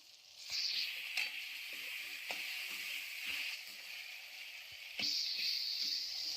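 Food frying in a pan with cabbage being added, a steady broadband sizzle running throughout with occasional sharper clinks and a louder burst of hissing near the end, close and moderately loud, no talking.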